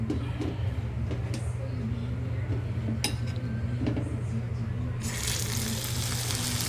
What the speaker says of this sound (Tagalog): Eto guys, magpiprito na tayo ng lumpiang Shanghai.